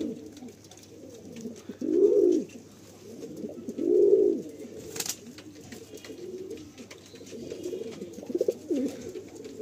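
A Madrasi pigeon coos nearby in low, throaty rolls, with two clear swells and softer murmuring between them.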